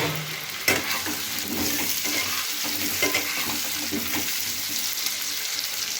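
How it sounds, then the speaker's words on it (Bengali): Potatoes frying with onion in a pan for a Bengali egg curry, giving a steady, close crackling sizzle with occasional stirring scrapes and no talk. "এবার আলুটাকে এর সাথে ভেজে দিচ্ছি।"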